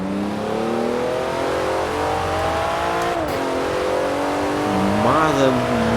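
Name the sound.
Porsche 911 Turbo S engine accelerating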